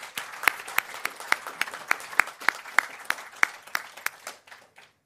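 Applause for caterers and hosts at the close of a GOVIS 2024 conference, a modest room of people clapping with distinct sharp claps standing out, fading out after about five seconds.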